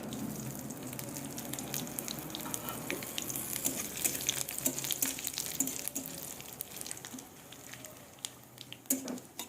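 Whole dried red chilies, bay leaf and cumin seeds frying in hot oil for a Bengali dal tempering, a steady close crackling sizzle with small pops and spatters throughout, no talking.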